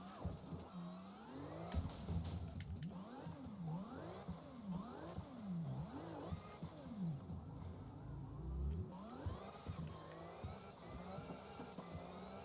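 A car engine driven at full throttle with the tire being worn away, revving in repeated rising and falling pitch sweeps over a low rumble, fairly faint and without talk.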